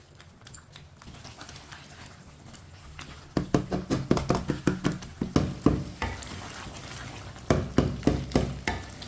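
Turnips cooking in a pan while being stirred, a steady soft sizzle with a run of repeated scraping, knocking strokes from a spoon against the pan, loud and close.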